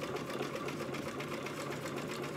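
A sewing machine runs steadily while top stitching a dog's party dress, its needle chattering in a fast, even rhythm, close and alone without any voices.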